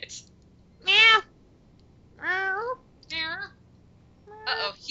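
A cat in the video game Time Hollow gives four separate drawn-out meows, each rising and falling in pitch, with short quiet gaps between them against a low background hum.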